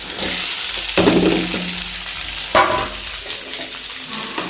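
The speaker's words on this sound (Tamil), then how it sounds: "ஆனியன் போட்டுட்டு நல்லா வதக்கி விடுங்க" Sliced onions sautéing with chillies in a pan for idli upma, a steady bright sizzle with louder bursts around stirring, close and continuous, no voices.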